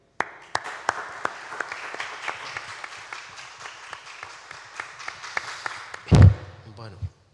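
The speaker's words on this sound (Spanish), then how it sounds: "yo les voy a pedir que me acompañen en un aplauso de bienvenida" Welcoming applause from an audience at a tribute event for the poet Joan Vinyoli: steady mid-distance clapping that stops abruptly, followed by a thump and a speaker beginning to talk.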